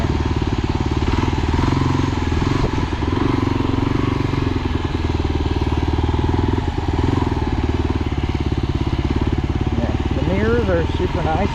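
A Kawasaki KLR motorcycle being ridden, its engine droning loud and steady throughout with constant wind and road rumble, a short rising whine near the end.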